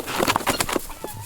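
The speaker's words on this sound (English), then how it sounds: "There you go, chickens." Chickens and guinea fowl on a Shenandoah Valley farm clucking in a winter storm, a quick run of several short, close clucks over background noise.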